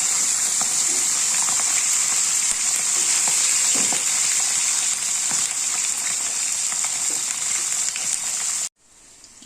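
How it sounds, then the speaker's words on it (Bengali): Puti fish fry in hot oil with a loud, continuous close sizzle and hiss that holds steady for several seconds before cutting off abruptly. "চলো মাছটা ভাজা বসিয়ে দিই।"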